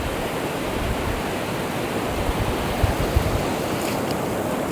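Sea waves wash onto a beach in Bali as a dense, steady roar of surf close by, without a break, with no speech.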